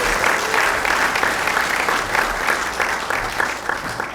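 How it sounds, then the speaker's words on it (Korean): An audience at a church dedication and founding service claps continuously in a full room, the applause dense and sustained throughout. "힘내시라고 큰 박수 주시죠."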